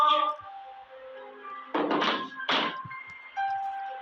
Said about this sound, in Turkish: Kapıya böyle vurabiliyor.